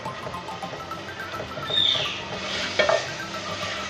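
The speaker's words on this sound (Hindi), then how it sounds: "मसाले के साथ आलूओं को थोड़ा सा भूनेंगे।" Potatoes sauté with spices in a pan for aloo tarkari, giving a soft, moderate sizzle with occasional stirring scrapes and light utensil clinks.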